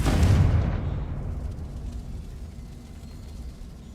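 A Confringo fire spell blasts in Hogwarts Legacy, one loud, close boom whose deep rumble swells over the first half-second and then slowly fades under a lingering low roar.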